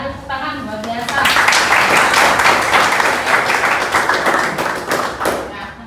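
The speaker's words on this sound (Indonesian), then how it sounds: "tepuk tangan luar biasa" Classroom students break into a burst of clapping during an art and culture lesson, dense and lively after a brief opening of a teacher's voice, continuing steadily to the end.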